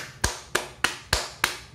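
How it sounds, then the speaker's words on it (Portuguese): Five sharp claps spaced roughly a third of a second apart, from a single pair of hands, crisp and close with nothing else heard. "Palmas pra esse gibi fantástico."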